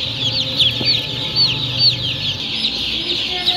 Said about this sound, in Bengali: এখানে সকল হাঁস ও মুরগির বাচ্চা পাওয়া যায়।